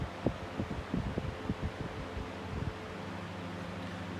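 Two old 12-inch desk fans, a General Electric and an English Limit, run together with a steady low motor hum and soft airy whoosh, some irregular low thumps early on, heard from a short distance with no talking.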